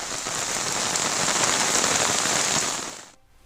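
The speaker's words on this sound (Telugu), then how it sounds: "నిజామాబాద్ జిల్లాలో ఉదయం నుంచి మోస్తరు వర్షం కురుస్తోంది" Moderate rain falls steadily in Nizamabad district in the morning, a dense, even hiss of drops on surfaces that fades out abruptly near the end.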